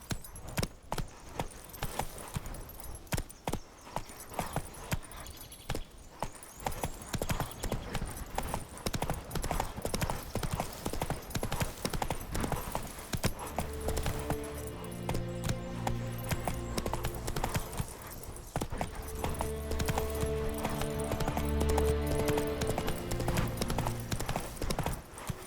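Roach the horse galloping in The Witcher 3, steady rapid hoofbeats drumming close by for the whole stretch, with game music rising underneath in the later part.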